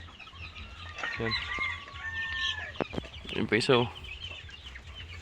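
Chickens on a farm cluck and squawk nearby in short, uneven bursts, with a person talking in between.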